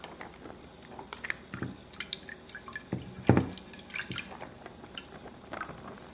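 Water drips and squishes from softened rice paper wrappers as they are drained for vegan spring rolls, a scatter of small close taps and splashes with one louder wet splat midway.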